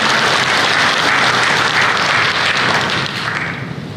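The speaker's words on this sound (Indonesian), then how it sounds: "mari kita berikan tepuk tangan sekali lagi untuk sambutan dari Mr. Jody." Loud, dense applause from an audience follows a speech at a Hana Bank economic outlook event, with steady clapping that fades slightly toward the end.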